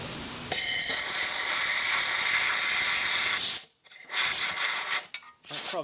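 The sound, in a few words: compressed air blowing into old mower engine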